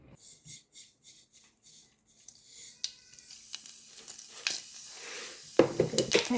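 Oil sizzles and crackles in a pan as cumin and mustard seeds are tossed in for tempering chickpeas, starting faint and growing louder, with a sharp burst of frying near the end.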